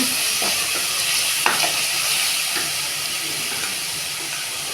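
Onions, tomatoes and spices with curry leaves and ginger-garlic paste sauté in a hot pan, giving a loud, steady sizzle and hiss with a few soft scraping stirs and no voices.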